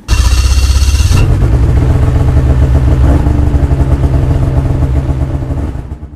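Electric start cranking a fuel-injected snowmobile engine, which catches at once and settles into a loud, close, rough-running idle.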